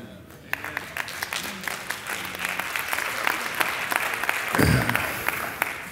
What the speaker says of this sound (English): At least the people who clapped will be.